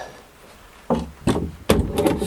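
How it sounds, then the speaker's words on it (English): Workshop clamp shifted along a wooden workpiece, giving three loud, close knocks and scrapes about half a second apart, with no talk. "Excuse the noise, I'm going to have to move the clamp"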